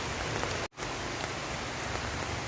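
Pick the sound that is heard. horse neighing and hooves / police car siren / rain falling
rain falling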